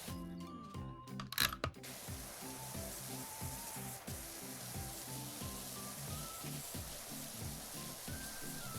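A pressure washer in Powerwash Simulator 2 sprays water in a steady, dense hiss that runs throughout, with rhythmic low mechanical pulsing beneath and a brief louder burst near the start.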